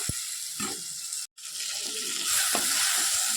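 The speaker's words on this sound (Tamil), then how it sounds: "இப்போ புளி தண்ணியை ஊற்றலாம்" Tamarind water poured into a brinjal gravy in a cooking pot, a steady watery rush with a faint sizzle, broken by a brief silent gap before the pouring resumes slightly louder.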